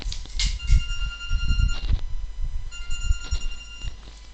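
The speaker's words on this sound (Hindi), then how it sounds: "फोन आ गया किसी का" A phone rings during a Hindi physics lecture on current electricity, a steady electronic tone pattern pulsing over muffled room noise and low rumbles, with no talk heard.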